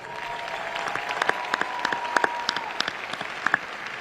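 Applause at a university commencement ceremony, scattered individual claps ringing out sharply over a softer crowd wash, with a faint sustained tone underneath.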